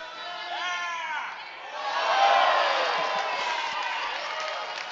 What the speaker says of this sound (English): The crowd liked that.